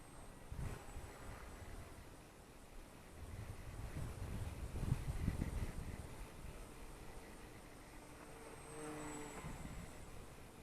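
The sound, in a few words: Volantex P51D Mustang RC model plane flying aerobatics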